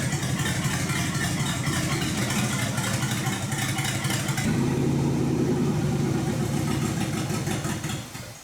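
A 1968 Ford LTD hardtop, revived after decades abandoned, runs its engine with a steady loud rumble, deepening into a throatier note partway through before fading at the end.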